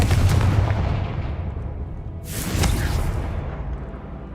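Confringo blasting spell in the Hogwarts Legacy video game: a booming explosive burst that decays into a rumbling tail, then a second sharp blast with a swooshing crack, loud and close, no talk.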